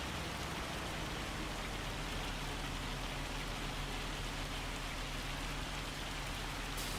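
Steady rain falling in the farming game Farming Simulator 25, a continuous soft hiss of drops on surfaces with a faint low hum underneath, quiet and unbroken, no talking.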